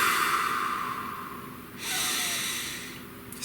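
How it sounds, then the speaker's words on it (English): A single soft breath is drawn slowly through the nose during a calm guided meditation, followed by a second gentle breath, close and quiet with no talking. "Please take a nice deep breath."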